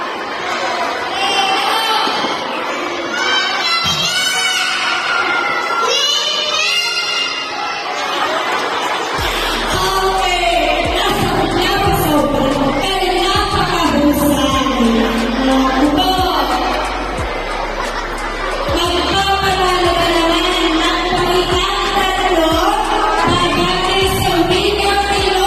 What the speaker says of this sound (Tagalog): kanya-kanyang sigawan